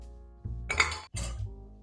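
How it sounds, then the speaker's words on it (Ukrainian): Several ice cubes clink into a glass one after another while a cascara coffee-cherry cocktail with whisky and tonic is made, two bright clattering bursts close by with no talking. "потрібно додати декілька кубиків льоду"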